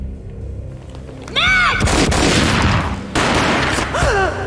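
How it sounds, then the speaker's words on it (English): Gunfire bursts out in a loud, sustained volley over a rumbling Max Payne game soundscape, with whooshing effects before and after. "A gunshot boomed and she fell down in slow motion."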